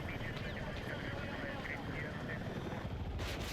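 Helicopter in the Battlefield video game, a steady rotor and engine drone heard from inside the cabin at low level, continuous throughout, with a brief burst of noise near the end.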